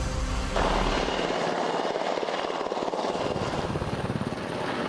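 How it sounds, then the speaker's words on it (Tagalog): Black Hawk helicopters fly overhead during a joint Philippine and American military exercise, their rotors and engines producing a loud, steady, throbbing roar that fills the whole stretch without letup. "Mula sa Himpapawid, gamit ng mga Black Hawk helicopter"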